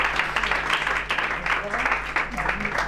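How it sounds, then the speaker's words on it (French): Audience applause for someone being honoured, a steady dense wash of clapping that carries on for about three seconds with a voice sounding beneath it. "vraiment, on peut l'applaudir."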